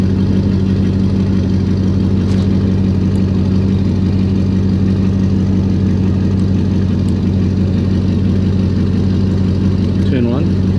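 A Roush-equipped car engine idles steadily and loud, a constant low rumble holding through the whole stretch with a brief rev-like rise near the end; the start itself is not distinct.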